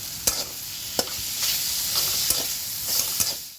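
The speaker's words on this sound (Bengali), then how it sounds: "এখন এই যে চাটনি করছি, আমের চাটনি" Mango chutney cooking and being stirred in a pan: a constant bright sizzling hiss, broken by a few light spoon taps and scrapes, close and alone.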